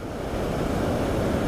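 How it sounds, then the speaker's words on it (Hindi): Flowing river water along an off-road mountain route rushes as a constant, dense roar, loud and unbroken, and is mixed with wind noise. "कितना बढ़िया पानी बहता हुआ आ रहा है"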